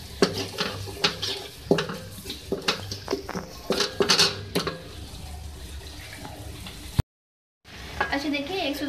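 Roasted ground spices cook in a pan for chicken tikka karahi, giving a soft sizzle broken by scraping stirs and clanks of the utensil against the metal, then a brief pause before the sizzling picks up again.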